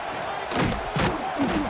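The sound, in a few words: stadium crowd in EA Sports College Football video game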